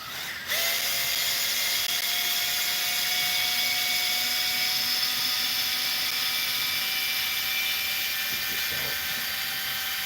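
A cordless power drill whines steadily as it backs screws out of the bulkhead on a Kraton 6S RC car. It sounds close and continuous, starting with a short burst before settling into one long run.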